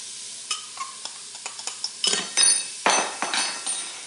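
Ground beef and one onion browning on the sear function of a pressure cooker make a soft sizzle broken by a series of utensil scrapes and clinks that grow busier and louder toward the end.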